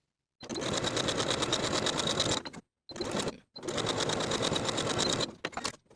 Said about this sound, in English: Then I'll pin and sew those side seams at 3/8 of an inch.